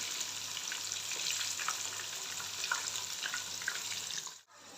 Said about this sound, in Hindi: तो अभी मीडियम आंच के ऊपर हम इनको अच्छे से फ्राई कर लेते हैं।